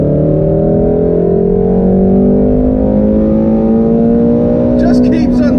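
Shelby GT350 engine revving hard with rising, sustained harmonics, loud and steady throughout as the car accelerates, with a burst of crackle near the end.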